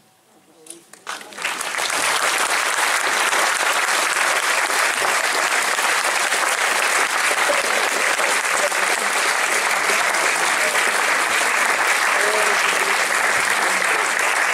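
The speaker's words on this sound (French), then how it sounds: "c'est sous vos applaudissements pour Edith Plenel, pour Costa Gavras, pour Michel" Festival audience at an Arab film festival in Fameck breaks into applause: a short quiet start, then loud, sustained clapping from a large crowd that holds steady to the end.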